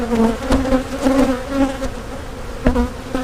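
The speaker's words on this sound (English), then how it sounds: "We've got plenty of bees over here." Dense, steady buzzing of many honeybees up close at an open hive during splitting, the drone wavering in pitch, with a few soft knocks mixed in. No voices.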